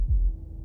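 A single deep, muffled heartbeat thump from the video game Slay The Princess, soft and close, fading into a low hum.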